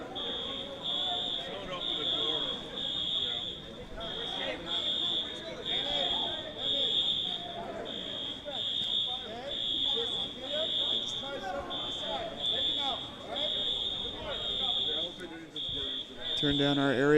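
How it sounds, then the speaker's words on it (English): A fire alarm blares at an indoor swimming pool during a 16U boys water polo game, a loud repeating high-pitched beep pulsing steadily throughout while people talk over it and a crowd murmurs. "Fire alarms going off now here."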